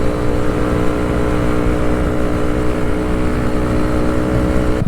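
A motorcycle on a food-delivery ride, its engine droning steadily and loud up close, a constant roar with wind rush and no speech.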